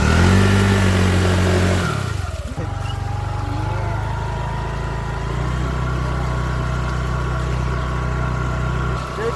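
Car engine revving hard while stuck near a river, its tyres slipping; a loud roar drops suddenly, then settles into a sustained strained drone.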